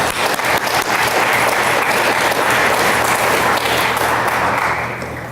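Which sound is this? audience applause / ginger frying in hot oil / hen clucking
audience applause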